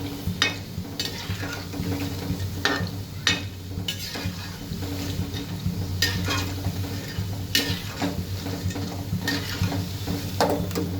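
Rajma vadas, kidney bean fritters, fry in hot oil with a continuous bubbling sizzle, punctuated by sharp metallic scrapes and taps of a utensil against the pan every second or so, close and fairly loud.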